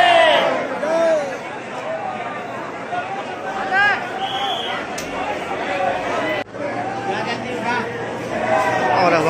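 Pilgrims throng Mansa Devi temple near Har Ki Pauri in Haridwar, producing a loud, continuous babble of many voices with occasional shouts and calls standing out, close and enveloping throughout.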